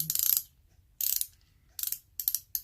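A Pittsburgh 3/8-inch ratchet wrench with a socket extension clicks in four short bursts of rapid, crisp pawl ticks, close and loud with quiet gaps between them.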